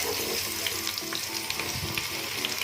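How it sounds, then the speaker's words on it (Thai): Sliced shallots deep-frying in hot oil, giving a dense, steady bubbling sizzle with small crackles and no voices over it. "นำไปเจียวให้หอมเหลืองเลยนะคะ"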